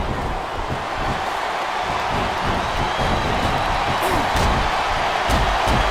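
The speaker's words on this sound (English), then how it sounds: "This capacity crowd is making their opinions known tonight." Wrestling arena crowd in the WWE SmackDown vs Raw 2007 video game, a dense, continuous roar of cheering with scattered claps and thuds, loud and unbroken across the clip.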